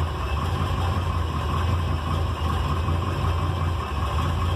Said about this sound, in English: When he first starts up, he idles a little bit low.